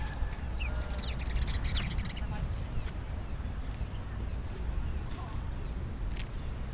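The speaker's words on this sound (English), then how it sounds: "Oh, the birds." Small birds chirp in a Greenwich Village park in New York City, with brief high tweets early on over a dense wash of city and crowd noise, fairly faint with people talking.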